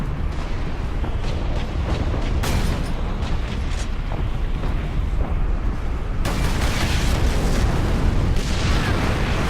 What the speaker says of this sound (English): Now, it's trying to tell you to shoot that explosive thing.